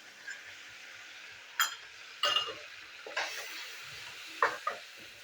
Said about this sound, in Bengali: তো মশলাটা আমি এখন কষিয়ে নেবো।